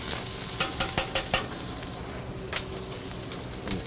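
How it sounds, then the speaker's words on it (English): Onions cooking in oil in a pan over a steady sizzle, with a run of five or six quick, close scraping stirs near the start and a few more scattered later, and no talk. "cook your onions to develop some flavor"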